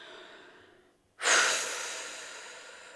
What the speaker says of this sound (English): Not breathing in, breathing out, and let your body breathe in for you.